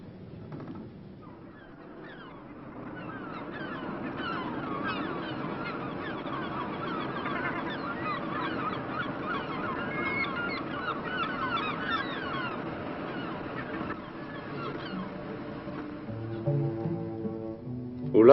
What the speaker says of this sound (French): Des fous de bassan, des macareux,